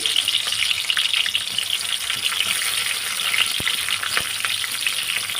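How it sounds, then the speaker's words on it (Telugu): Medium onion dropped into hot oil with cloves and cinnamon for a mutton gongura curry, a bright crackling fry with a few sharp clicks and spatula stirs, close up. "ఉల్లిపాయ వేస్తున్నాను."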